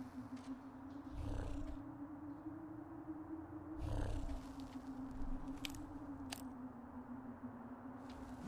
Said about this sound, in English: I swear I'm hearing a cat.